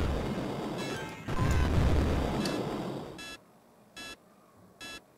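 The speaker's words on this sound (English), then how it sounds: "That beeping, that means the shield's not so good." Shrill electronic warning beeps from a low shield in the video game Walker, three short evenly spaced bursts ringing out after a stretch of loud rumbling crashes and blasts.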